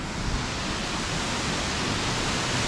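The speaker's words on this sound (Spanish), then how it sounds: "Miren, aquí ya se ve la cascada." A waterfall in a canyon at Santiago de Apoala, Mexico, heard as a constant, dense hiss and roar of falling water, steady and loud throughout with no voices.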